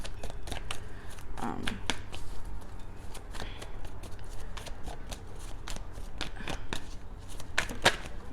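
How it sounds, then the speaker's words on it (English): Tarot cards shuffled by hand in quick, crisp riffles and taps, close and fairly soft, continuing in a steady irregular patter with no talking. "I'm gonna shuffle one card or two"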